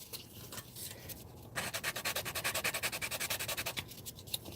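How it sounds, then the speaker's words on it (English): UMP sanding sticks rubbing over a 1970 Chevelle restomod scale model car body, a quick burst of strokes followed by a steady run of about twenty even back-and-forth rasps, close and clear with no talk. "Today I'm using my ever trusty UMP sanders, Ultimate Modeling Product sanders."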